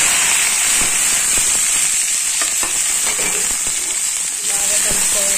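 Green beans (chikkudu kaya) frying in a pan, a steady loud sizzle with clicks and scrapes of stirring throughout, close up and with no voices.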